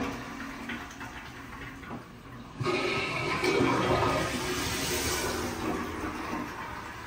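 A toilet flushes close by, a low rush that surges loudly and keeps churning and gurgling as the bowl refills.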